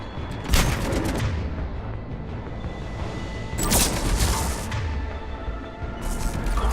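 Cannon fire in the video game Mass Effect 3: loud, booming blasts roughly every three seconds, each followed by a rumbling decay and layered over a steady low background roar.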